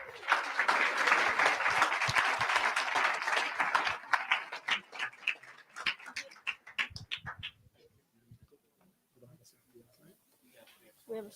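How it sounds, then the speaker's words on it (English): Audience applause at a national youth pitch competition, loud and full for about four seconds before thinning into scattered individual claps and fading to near quiet, with faint voices underneath. "please give a round of applause for the CIA"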